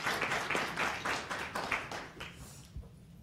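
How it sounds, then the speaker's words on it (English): A small audience at a gaming event gives a short, fairly faint round of applause in uneven pulses that tapers off after a few seconds, ending with a soft thump. "So give him a big round of applause and we'll get moving."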